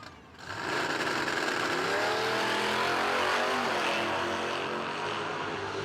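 Drag racing cars at the Wabash Valley Dragway in Terre Haute, Indiana roar in a sustained engine blare, one pitch rising as a car accelerates down the strip, loud and steady from a distance, no talk.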